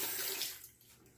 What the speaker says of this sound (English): I'll rinse my hand off again